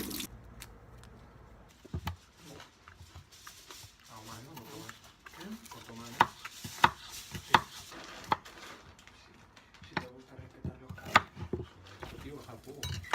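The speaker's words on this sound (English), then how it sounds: "Then I need to chop the onion up first" An onion is chopped with a knife on a board, giving irregular sharp taps and thuds scattered through a quiet kitchen, alongside occasional talk.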